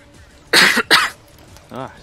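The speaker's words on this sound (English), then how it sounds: "Cough, cough." Two quick, loud coughs in a row, near and dry, followed by a short voiced throat sound.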